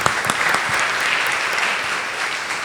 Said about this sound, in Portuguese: Vamos aplaudir o nosso Senhor.